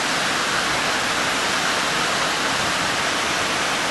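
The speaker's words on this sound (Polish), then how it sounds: "wodospad." The Szklarka waterfall in the mountains near Szklarska Poręba gives a dense, unbroken roar of falling water, heard close and loud without any talk.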